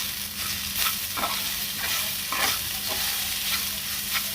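Raw mango and garlic thecha being stirred in a hot pan after salt goes in: a constant low sizzle broken by repeated scraping strokes of a spoon, close and alone.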